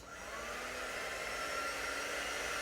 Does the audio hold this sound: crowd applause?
no